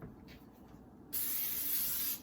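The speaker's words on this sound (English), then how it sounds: "then we need to spray our baking sheet" A steady spray of cooking spray onto a baking sheet hisses loudly for about a second, starting abruptly after a quieter stretch of low room noise.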